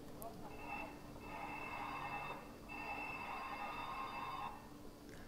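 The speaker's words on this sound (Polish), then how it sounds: "to, co teraz właśnie słyszeliście, to jest dzwonek naszego nowego tramwaju" The electric bell of a new Hyundai Rotem tram in Warsaw rings in two sustained, trilling bursts with a short gap between them, heard nearby over quiet background noise.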